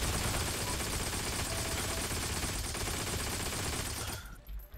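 Rapid, sustained automatic gunfire as a full magazine is emptied in the Heroes and Generals shooter, a dense unbroken burst close and loud for several seconds before cutting off abruptly near the end.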